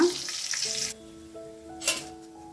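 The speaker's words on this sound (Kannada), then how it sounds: "ಇದನ್ನು ಈ ಥರ ಫ್ರೈ ಮಾಡ್ಕೊಂಡಿರೋದು" Wheat flour karjikai pastry frying in hot oil, giving a loud, close sizzle for about a second before it drops away to quieter background hum and faint clinks.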